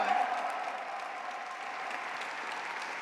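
An audience at an American Indian Heritage Month celebration applauds singers, a steady wash of clapping from a crowd that holds evenly at moderate volume for about three seconds.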